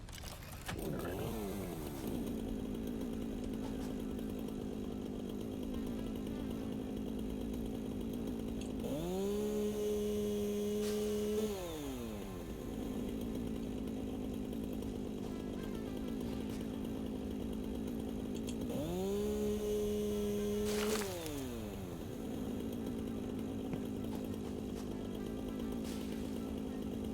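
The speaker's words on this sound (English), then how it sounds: "Chainsaw." A chainsaw from the game Satisfactory buzzes steadily throughout, revving up in two loud surges with pitch sweeps around the middle and near the end, then settling back to idle.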